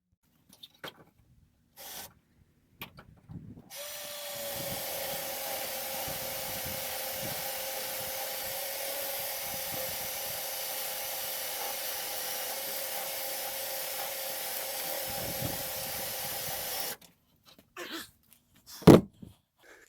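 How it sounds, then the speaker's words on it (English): Power drill running steadily for about thirteen seconds, drilling out spot welds on a 2013 Toyota 4Runner body, a continuous whining drone with faint metal grinding, bracketed by brief tool handling knocks. "got all 5 of those drilled now"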